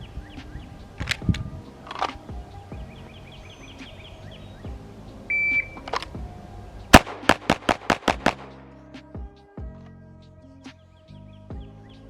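Pistol shots ring out during a bill drill at a shooting range, a scattered few at first, then a rapid string of six sharp cracks in quick succession, followed by sparser, quieter shots.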